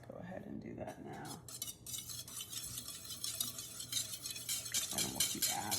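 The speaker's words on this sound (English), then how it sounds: "I should have whisked this first. So let's go ahead and do that now." A whisk beats protein powder cake batter in a bowl, a quick, continuous clinking and scraping against the sides that grows a little busier toward the end, fairly close and alone.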